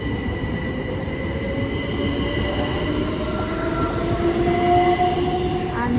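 Class 377 electric train, unit 377104, bound for Southampton Central, rumbling steadily through Swanwick station with a continuous loud roar of wheels on rail and a rising whine, close by.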